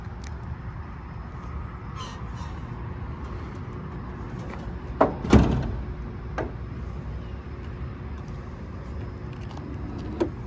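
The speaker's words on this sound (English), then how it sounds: "So I'll start by shutting the hood." A truck hood is shut during a CDL pre-trip inspection outdoors, one solid thump standing out briefly over steady low vehicle and ambient noise, with faint clicks around it.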